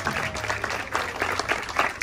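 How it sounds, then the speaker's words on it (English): An audience applauds after a shark feeding show at an ocean park in Amber Cove, Dominican Republic, the clapping dense and continuous with crowd noise underneath. "clap your hands for our shark"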